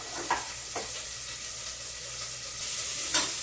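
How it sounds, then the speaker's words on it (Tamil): Sliced onions sautéing in a pan, a steady soft sizzle with a few spoon scrapes and stirring clicks at intervals, close up. "நல்லா வெங்காயம் வதங்கட்டும்"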